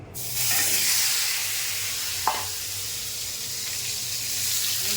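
Papaya and potato pieces hit hot oil in a kadai and sizzle with a steady, loud broadband hiss that sets in after a brief pause and carries through, with a small clink midway.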